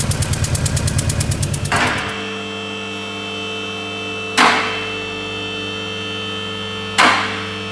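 VW Corrado engine with a lifted cylinder head blowing exhaust pressure, chuffing in a fast rhythmic pulse for about two seconds, then settling into a steady hum broken by two sharp knocks, close and loud.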